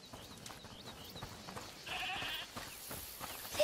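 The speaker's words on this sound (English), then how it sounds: "Is that the goat he talked about?" A goat bleats in the video game A Plague Tale: Requiem, a faint, short wavering cry that stands out against quiet in-game ambience with light rustling.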